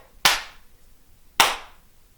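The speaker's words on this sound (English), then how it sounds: "see if you can clap them behind your back" Two sharp hand claps about a second apart, made behind the back while stretching arms in a Tae Kwon Do class, crisp and close in an otherwise quiet room.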